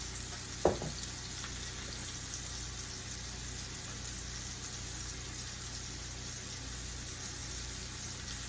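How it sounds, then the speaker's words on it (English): Steady, faint sizzle of food searing on the bottom of a pan, a continuous soft hiss with a single brief clink near the start. "I just want to get it a nice little sear on the bottom"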